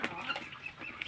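Chickens, grown pullets raised by their keeper, cluck softly and intermittently at close range, with short chirpy calls scattered over a low farmyard background.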